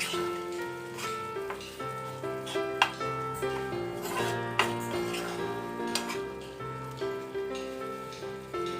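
Tangra fish curry with spice mixture is stirred in a hot pan, with a continuous sizzle broken by regular scraping strokes of the spoon, heard close beneath a musical background.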